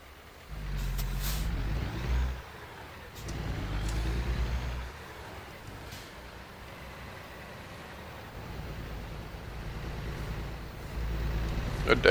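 A semi truck in American Truck Simulator rumbles with a deep, steady engine drone, broken by bursts of air brake hiss. Someone talks over it throughout.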